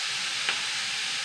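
Onions and green chilies sizzle in a hot pan for a Kerala-style curry, giving a steady close frying hiss with a faint stir in the middle and no voices.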